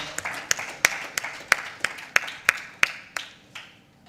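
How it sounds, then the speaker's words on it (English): Sparse, crisp hand claps from a small audience at a book launch as guests come up on stage, about a dozen distinct claps spaced unevenly over a few seconds, close and fairly clear. "A round of applause as they come up on stage."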